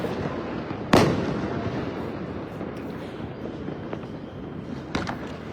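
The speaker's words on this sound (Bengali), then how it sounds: "একের পর এক কিন্তু আতশবাজিগুলো ফুটছে" Fireworks bursting over Dhaka at night, one sharp near bang at the start and a fainter pop later, over a continuous rumble of distant crackling and city ambience.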